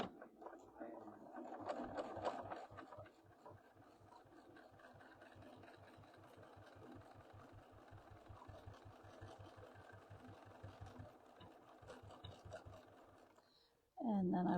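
A sewing machine stitches a quarter-inch seam in a fast, even rhythm of needle strokes that runs for most of the stretch at close range. It stops abruptly just before a louder sound breaks in at the end.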